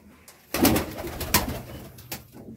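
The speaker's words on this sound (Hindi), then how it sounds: "ये देसी कबूतर है" Desi pigeons coo in soft, throaty bursts, close by, with a few wing flutters and rustles between calls.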